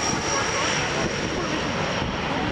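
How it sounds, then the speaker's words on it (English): A WestJet Q400 turboprop airliner at Toronto Pearson International Airport gives a steady, loud engine roar with a thin high whine, continuous over the whole stretch with no talk. "Now, WestJet Q400."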